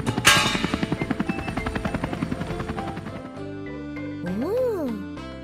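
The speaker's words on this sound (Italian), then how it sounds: "Oh, un elicottero trasporta una rampa!" A cartoon helicopter carrying a ramp: a fast, rhythmic rotor chop that starts loud and fades, set against bright cartoon music.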